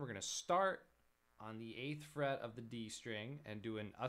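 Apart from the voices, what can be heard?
No distinct noise like a dog, phone or traffic.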